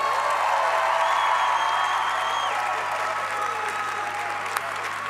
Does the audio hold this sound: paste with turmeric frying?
no